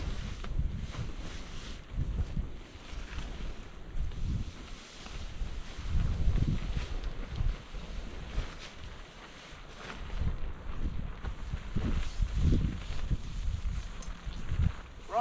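Strong wind gusts buffet a campsite in continuous, surging low rumbles that swell and fade, with occasional flapping and rustling close to the microphone.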